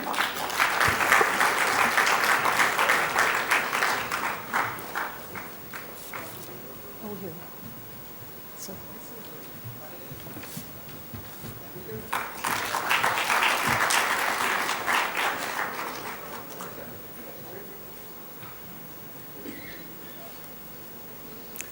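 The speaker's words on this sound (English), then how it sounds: "Let's have a warm round of applause" Two bursts of audience applause at a convention inauguration, a long round of clapping that fades, then a second swell of clapping from a sizable crowd.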